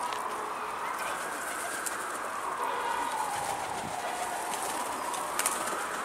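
Pigeon perched on a rooftop, its soft cooing and occasional wing flutter faint and distant against a steady background hiss, with no one speaking.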